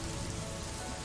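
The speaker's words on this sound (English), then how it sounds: "the patter of rain on the window" Rain patters steadily on a window on a rainy night, a soft, even hiss of drops without a break, with no voices.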